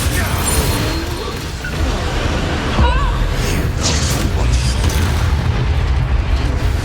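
A Confringo fire-blast spell goes off in the Hogwarts Legacy video game, a booming burst over a dense rumbling game soundscape with music and effects, no talk, steady and loud throughout.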